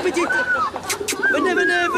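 Pigeons coo in rising and falling calls close by, with people talking over them.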